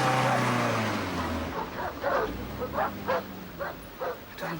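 Dogs bark in a British sitcom scene, a string of muffled, evenly spaced woofs at moderate distance following a low rumble.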